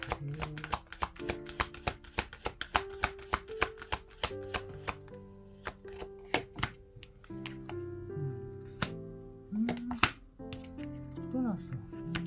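Tarot cards shuffled and handled, a busy run of sharp card snaps and taps over soft background music with sustained tones.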